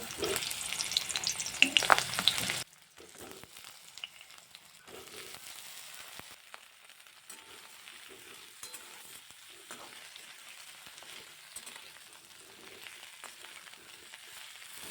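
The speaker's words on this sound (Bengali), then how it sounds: "এবার কলাগুলোকে ভেজে নেব" Plantain slices fry in hot oil in a wok, a loud burst of sizzling and bubbling at first that quickly drops to a quieter, steady crackle and spatter with occasional stirring sounds.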